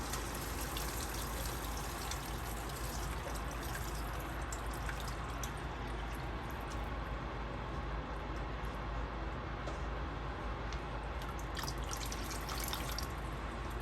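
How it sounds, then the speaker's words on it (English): Coconut milk strained into a pot of Guyanese lamb cook-up rice, pouring and trickling in a steady, continuous wash of liquid close by, with no voices. "I'm gonna go in with our coconut milk, and I'm gonna strain it with a strainer right into the pot"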